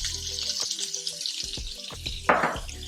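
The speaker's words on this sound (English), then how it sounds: "we're going to cook the onions" Onions sizzle and fry in bacon drippings in a pan, a steady close crackle with occasional stirring scrapes and a brief louder burst of sizzle near the end.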